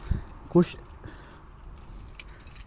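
Keys jangle briefly at a residential building gate in Russia, a short metallic rattle close by against quiet outdoor background, with a voice speaking around it.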